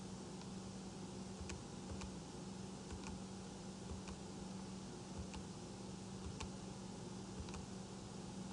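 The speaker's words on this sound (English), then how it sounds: "And let's type that in." Numbers keyed into a calculator, light evenly spaced ticks of button presses, about a dozen, faint beneath a steady hum and hiss of background noise, with no talking.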